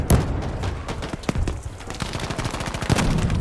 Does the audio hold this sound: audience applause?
no